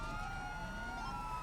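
A police car siren wails in a video game, a continuous steady electronic tone sounding clearly throughout the short stretch, with no talk over it.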